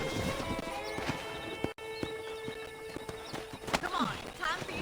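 Horse hooves clip-clopping in the Red Dead Redemption video game, a steady walking rhythm of close hoofbeats layered with game music and a brief whinny, while characters talk over it.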